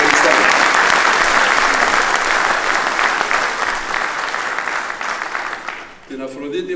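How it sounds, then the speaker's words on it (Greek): A crowd applauds warmly at a political speech by a politician, a loud, dense roll of clapping that gradually thins and fades before a voice begins speaking at the end. "παρακαλώ ένα θερμό χειροκρότημα για έναν ένα ξεχωριστά"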